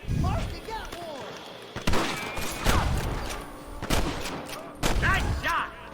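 A Red Dead Redemption shootout crackles with a rapid series of sharp gunshots and thuds, some close and loud, others scattered, alongside the clamor of the firefight.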